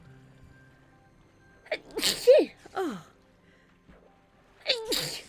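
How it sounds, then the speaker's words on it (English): A brief exclamation, then a loud, close sneeze with a sharp intake of breath, followed by another quick sneezing burst a moment later. "Oh, I think I'm going to sneeze now."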